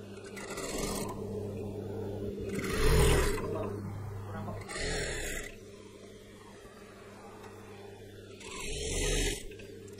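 A sewing machine stitching palazzo trousers runs in several short bursts of rapid whirring, separated by pauses, with someone talking quietly in between.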